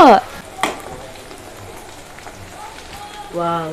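A soft, steady sizzle of food frying in oil, with brief voices speaking at the start and end over it.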